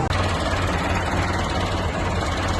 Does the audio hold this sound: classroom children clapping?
no